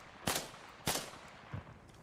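Gunshots in the military shooter game Arma: two sharp, loud reports followed by a fainter third, spaced irregularly over a quiet background.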